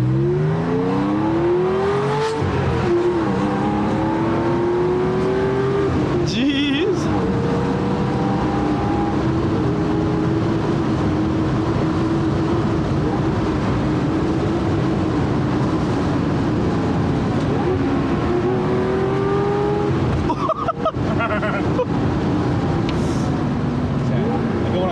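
A Porsche 911 rally car fitted with a quiet exhaust drives steadily, its engine droning and rising and falling with throttle, while people talk inside the cabin.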